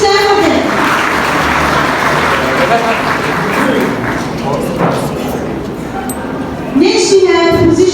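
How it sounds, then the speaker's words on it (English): Audience applause at a school's annual investiture ceremony: dense, continuous clapping from a large crowd that stays loud throughout, with voices briefly rising over it near the end. "Please clap for them."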